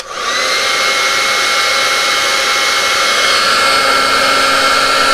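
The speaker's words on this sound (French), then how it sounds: "je vais passer le pistolet thermique sur la gaine et voir ce que ça donne" A heat gun blows hot air over the sheath of a wiring harness, starting up and then holding a loud, steady, close-up whooshing roar with a faint whine and no speech.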